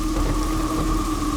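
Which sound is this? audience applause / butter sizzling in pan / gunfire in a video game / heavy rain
heavy rain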